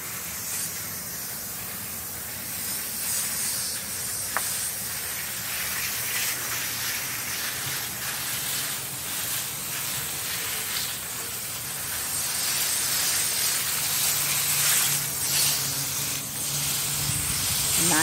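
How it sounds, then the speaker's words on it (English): A steady, hissing spray of water runs continuously at close range over the leaves of an indoor plant, growing slightly louder and rougher toward the end. "he's just going to spray all the leaves to make sure that they are clean."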